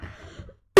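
A single sharp cough bursts out loudly near the end, after a low murmur of room noise and a brief moment of silence.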